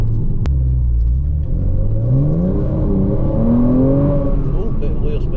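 A Porsche Cayman engine revs sharply during a heel-and-toe downshift, with rising and falling tones over a constant loud rumble of road and wind noise inside the moving car; people talk briefly over it.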